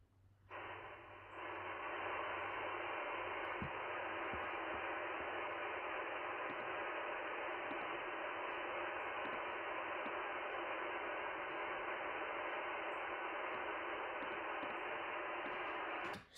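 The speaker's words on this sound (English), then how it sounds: "I'll make sure that you guys can hear the radio" Steady broadband hiss of an amateur radio receiver tuned to the 20-meter band, loud and unbroken for the whole stretch with no voices or signals cutting through.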